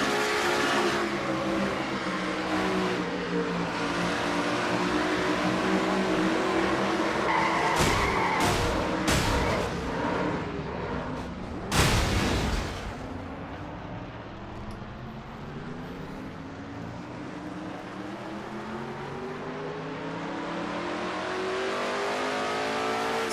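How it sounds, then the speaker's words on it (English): In a sim racing game, a race car on the first lap of a Castrol GTX Cup race gets turned after contact, its tires skidding and squealing while the engine revs, followed by a sharp crunch and a spin. "So not a good start for Keith Batson as he got turned on the first lap of the race."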